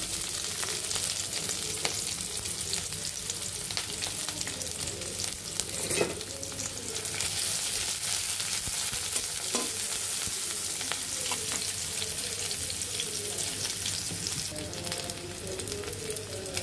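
Chopped onions and green chillies fry in oil, heading for a shrimp and papaya dish, a steady close sizzle with scraping stirs and a few louder spatters.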